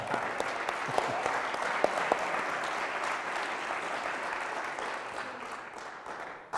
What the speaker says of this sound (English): we owe her another round of applause